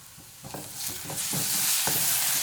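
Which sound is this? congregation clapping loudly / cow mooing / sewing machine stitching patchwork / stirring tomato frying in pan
stirring tomato frying in pan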